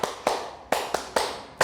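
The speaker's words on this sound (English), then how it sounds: "Clap for yourselves." Children clap for themselves at the close of a primary school literacy lesson: six slow, sharp, separate claps, each ringing out briefly before the next.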